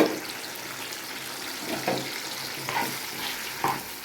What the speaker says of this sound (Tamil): ஸோ இப்போ இது நல்லா எண்ணெயில் வதக்கணும் ஃப்ரெண்ட்ஸ்.